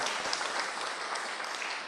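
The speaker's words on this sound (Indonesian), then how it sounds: "Tepuk tangan dong" An audience at a spiritual talk claps steadily and evenly for a couple of seconds at moderate distance, with no one speaking.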